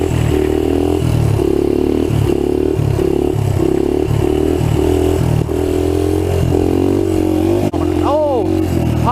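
A trail bike engine runs loud and close, its steady drone dipping and bogging in a rapid repeating rhythm as it loads down, with a brief clatter near the end.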